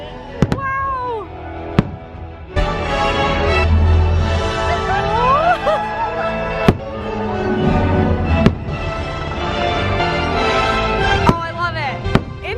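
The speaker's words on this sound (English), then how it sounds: "Yes, Minnie's Very Merriest fireworks." A holiday fireworks show, Minnie's Very Merriest Fireworks at a theme park, with sharp booms recurring throughout under festive music and a crowd. People talk and exclaim over it.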